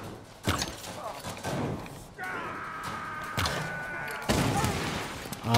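Gunfire in the Tomb Raider video game, several sharp shots and bursts in separate clusters with metallic thuds and mechanical clatter between them, over low game ambience.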